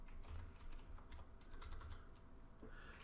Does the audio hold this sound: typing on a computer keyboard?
yes